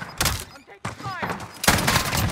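Gunfire crackles in a Modern Warfare Warzone match, dense bursts filling most of the moment with a short gap, while a player's voice talks over it.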